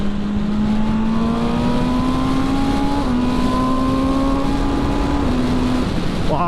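A 2020 MV Agusta Brutale 1000 RR motorcycle riding on the road, its engine holding a steady loud drone that climbs slowly through gears with brief dips at shifts, under heavy wind rush.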